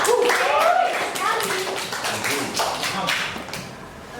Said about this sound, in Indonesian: Tepuk tangan dulu buat Mas Ega.